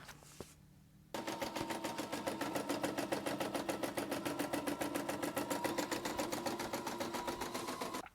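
Embroidery machine stitching a design onto a sweatshirt, starting after a quiet moment into a fast, even, rapid-fire mechanical rhythm that runs steadily until it stops.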